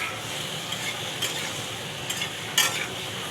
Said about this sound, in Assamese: দি পেলাই ইয়াত এইখিনি ভালকৈ লৰাই দিম